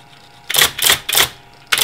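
An IBM Electronic Typewriter 85 under repair types a test line, striking in three quick, loud bursts followed by another strike after a pause, close and crisp with no voices.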